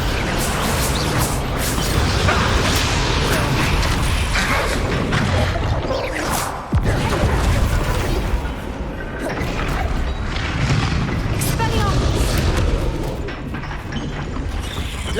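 Bombarda blasting spells explode again and again during a Hogwarts Legacy fight, a dense, loud wall of booms, crashes and whooshing magic that barely lets up over the whole stretch.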